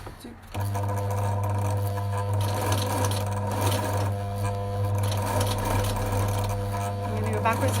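An electric sewing machine stitches ribbon onto a fabric mask, its motor starting up and then running in a steady, close, buzzing whir for several seconds.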